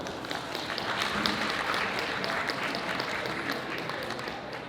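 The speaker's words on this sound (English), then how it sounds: "with some warm applause" A seated crowd at a poetry reading and performance event gives steady, warm applause, a dense wash of clapping at moderate volume that holds evenly throughout.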